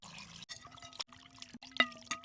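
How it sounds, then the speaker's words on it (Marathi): Raw chicken is washed in water, with short sloshing and pouring splashes in several quiet bursts separated by brief pauses. "चिकन तर धुवून घ्यायचं"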